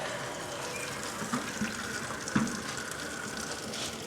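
Water drains from a water heater's drain valve during a flush, a steady, fairly faint hiss and gush of flowing liquid running continuously with no talk over it.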